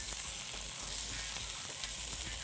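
Sea bass fillets sizzle steadily in an oiled pan, a dense continuous frying hiss with small pops, close and alone.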